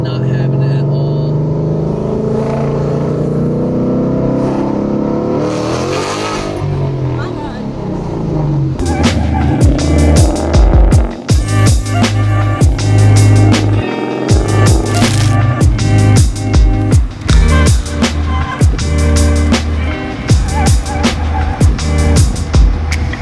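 Modified car with a struggling stock clutch driving along, engine droning then revving hard in repeated surges and gear changes, loud and close with wind buffeting and occasional voices in the cabin.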